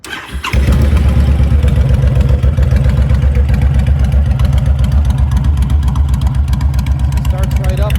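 A 2013 Honda Fury VT1300 fuel-injected motorcycle engine cranks briefly, then fires up loudly and settles into a steady, throbbing idle close by.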